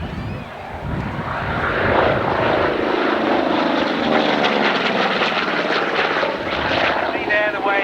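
A propeller warbird with a 1,900 horsepower engine and a top speed around 270 mph flies past at an airshow, its loud, steady engine roar filling the whole stretch with a slowly shifting pitch as it passes.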